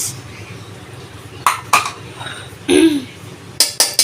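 A spoon clinks and scrapes against a metal pot while ghee, cashews and raisins are stirred into fried rice, giving several sharp separate knocks over a quiet background with no talk.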